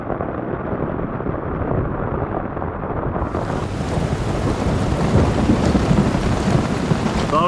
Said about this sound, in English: this amount of rain, we'll get some flooding